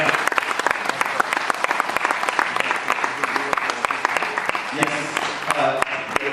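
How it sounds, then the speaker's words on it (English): An audience at a flood disaster recovery seminar breaks into sustained, dense applause, many hands clapping loudly and evenly for several seconds with no voices over it. "I want you guys to give a proper applause this time"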